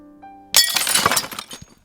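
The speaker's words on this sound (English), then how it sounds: "Ceiling shattered." A sharp glass-shattering sound effect, a loud sudden crash followed by a second of tinkling, crackling fragments that fade out, played alone after a quiet lead-in.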